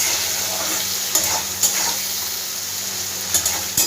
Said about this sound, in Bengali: এই পর্যায়ে কেটে রাখা টমেটোটা আমি দিয়ে দেবো, তাহলে টমেটোটা একটু তাড়াতাড়ি গলে যাবে।